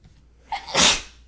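A single loud sneeze up close, a quick intake of breath building into a sharp burst, then quiet.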